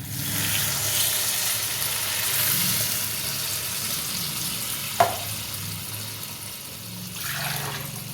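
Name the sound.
water added to spiced curry in a hot pan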